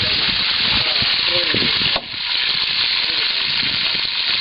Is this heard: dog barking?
no